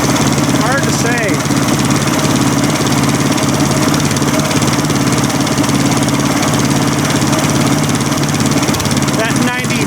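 A small engine runs after its oil rings were put back in, a loud continuous rough idle with a steady rapid chugging drone, mostly alone, with a few brief faint voice-like sounds mixed in.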